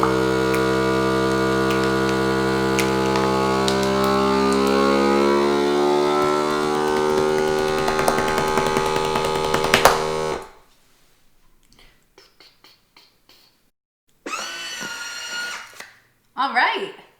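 A vacuum sealer hums and whirs steadily for about ten seconds while pulling air from a bag of beets, then stops abruptly, followed by light clicks and two shorter buzzing bursts, with a person talking.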